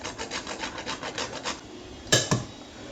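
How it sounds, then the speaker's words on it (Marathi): Nutmeg being grated for Maharashtrian puranache dinde, a steady run of about ten short rasping strokes followed by two sharper knocks, close and clear with no talk. "थोडं जायफळ किसून टाकायचंय"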